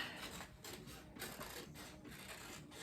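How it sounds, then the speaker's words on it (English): A printer runs in the background of a quiet room, a very faint mechanical whir with soft rhythmic pulses and swishes repeating roughly every half second. "you can hear my printer running in the background"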